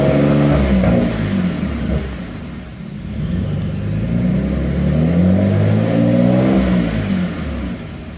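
A Dodge Stealth (3000GT) engine revs repeatedly, rising and falling through several surges with a steady rumbling idle between, close and loud, with no talking.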